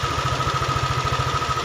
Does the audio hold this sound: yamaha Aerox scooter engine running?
yes